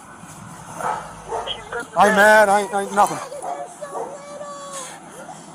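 A dog barks and yelps in short bursts at close range, mixed in with loud talking during a tense police encounter.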